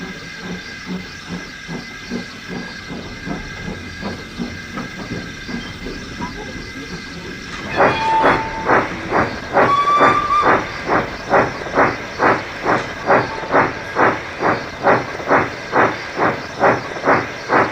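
A steam train hisses steadily, then breaks into rhythmic chuffing puffs that grow louder and regular as it pulls away, with a brief whistle-like tone.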